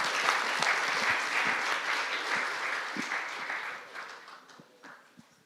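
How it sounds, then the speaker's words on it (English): Steady applause from a crowd, clapping dense and even for several seconds before thinning out toward the end. "Big applause."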